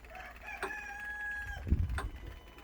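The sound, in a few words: rooster crowing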